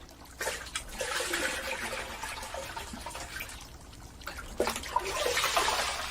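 Hands wash spring-salted fish in water, producing splashing and trickling bursts that swell and fade in close surges, with quieter gaps between.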